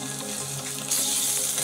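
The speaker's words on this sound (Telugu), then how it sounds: "ఈ ఉల్లిపాయ పచ్చిమిర్చి మంచిగా ఫ్రై అవ్వాలి కదా" Onion and green chilli frying in a pan for a Telugu curd-tomato curry, a steady close sizzle that grows louder and brighter partway through, with no talking.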